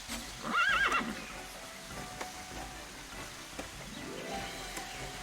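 A horse whinnies loudly once near the start in the game Tera, followed by a softer snort and steady ambient rain-like hiss.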